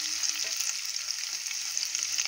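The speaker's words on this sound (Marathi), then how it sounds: "आणि आलं आणि लसूण तेलावरती तळले जातील।" Ginger and garlic sizzle in hot oil for a home-style mutton dish, a steady bright crackle with occasional stirring and no voices.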